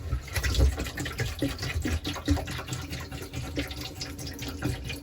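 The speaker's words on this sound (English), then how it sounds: "We'll pour some in the tray of the ice machine." Liquid RV antifreeze poured into the tray of an ice machine in a seasonal restroom or concession building, a steady splashing, trickling pour running close by throughout without talk.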